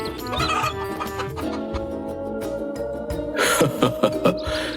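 Chicken clucking close by, a run of short throaty calls over a busy background, getting louder and choppier near the end, in a cartoon.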